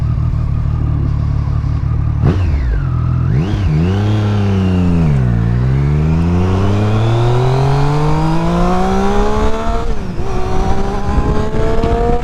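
Motorbike engine ridden on the road, revving up and down through the gears with rising and falling pitch, loud and close with wind rush throughout, no talking.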